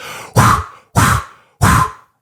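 A voice imitates an irritated grizzly bear blowing through its mouth and nose three times: forceful breathy huffs in a steady rhythm, each fading out, close and loud.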